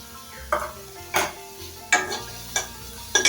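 Small fish sizzle in a pan to dry off their water, with several distinct scraping stir strokes over a low steady sizzle, close and moderately quiet.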